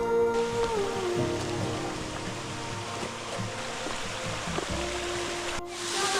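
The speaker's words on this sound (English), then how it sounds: "We can hear the waterfall now." Steady rushing water of a hidden waterfall near Kairakau Beach, a constant broad hiss that fills the whole stretch without pause.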